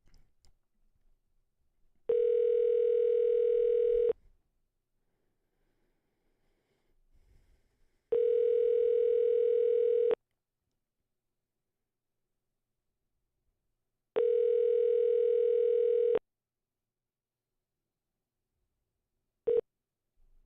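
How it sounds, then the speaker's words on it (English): An outgoing phone call rings unanswered: three steady two-second ringback tones spaced about six seconds apart with near silence between, then a fourth tone cut off abruptly, clean and alone on the line. "it only rang for about 15 seconds. So I'm going to call right away."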